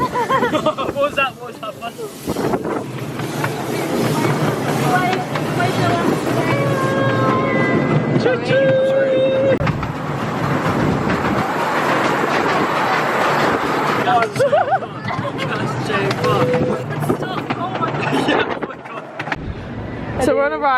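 An amusement ride running at Hastings beach, a loud continuous rumble and clatter with windy buffeting and occasional whining tones, recorded up close while people talk and shout over it.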